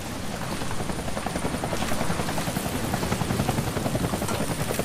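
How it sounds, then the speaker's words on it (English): A helicopter in the video game Deadlight thuds overhead with a loud, steady rapid rotor chop and engine roar that continues throughout. "How that's the helicopter chasing my friends."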